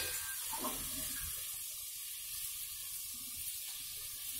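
Water is poured into a heated kadai on a lit stove while making the sweet chandrakantulu, a soft hissing and splashing that briefly bubbles, then settles into a steady faint sizzle.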